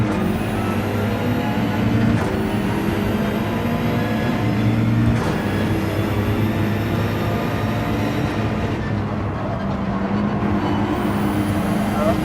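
Porsche 911 Group 3 race car engine in Gran Turismo, a steady low droning roar with harmonic whine held throughout, a few brief rising shifts, loud and continuous.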